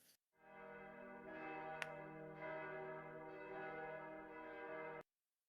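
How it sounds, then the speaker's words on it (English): A large bell tolls with a rich, sustained ringing tone that swells and holds for several seconds before cutting off abruptly, heard alone without voices. "A sort of almost slick of flame darting off its form as you all hear bells."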